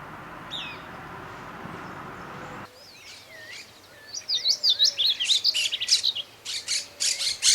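Short, sharp chirping position calls from a mosqueta parda flycatcher repeat in quick bursts, clear and fairly close, after a stretch of quiet background noise.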